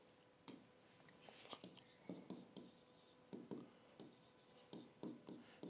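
Pen scratching on paper while a math solution is written out by hand, a run of short, fairly quiet strokes and taps in irregular bursts, close by.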